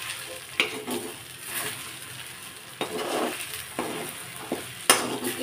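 Coconut filling for kozhukattai stirred in a pan, soft scraping sweeps with a few sharper clinks of the spoon against metal, close and fairly quiet, no talking.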